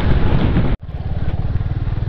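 A motorcycle engine drones close by on a rough road in Palasdari, with the rumble cutting out briefly as the rider shifts gears. The engine then picks back up into a pulsing, throbbing rev.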